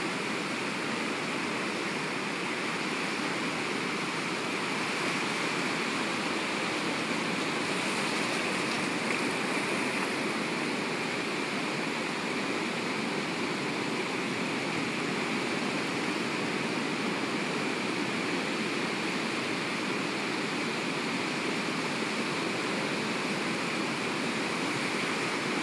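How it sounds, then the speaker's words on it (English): Ocean waves wash steadily in a continuous, even roar of surf, unbroken throughout and with no voices over it. "refocusing your thoughts back onto the waves"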